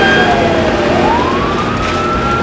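A fire truck siren wailing loudly and continuously as it arrives at a bomb blast site at night, its pitch sweeping down and then rising again over heavy traffic rumble.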